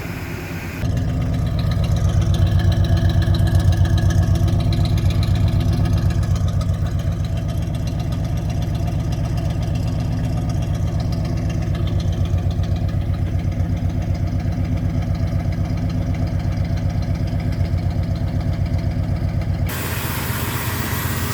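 A 1968 442 with about 150,000 miles idles steadily at close range, giving a smooth, even low rumble with no speech over it.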